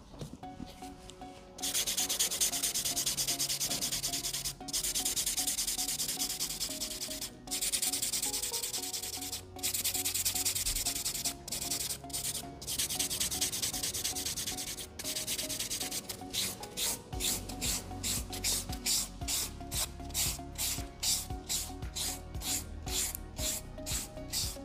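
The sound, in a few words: sanding a nail with a sand buffer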